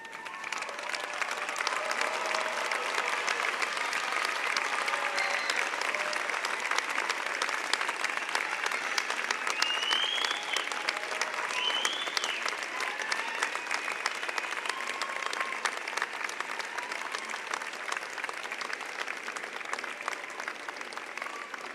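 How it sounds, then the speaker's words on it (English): A large audience at a university graduation ceremony for the Faculty of Arts and Science gives a long, steady round of applause, dense clapping sustained evenly for about twenty seconds with faint voices beneath. "give those who helped you a big round of applause"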